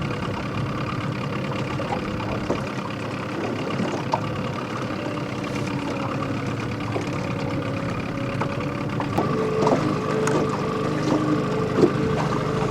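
A small motor idles steadily at low speed, tuned down almost to stalling, with a constant low drone and faint mechanical ticking throughout, heard outdoors while fishing near a rustic log cabin hunting camp.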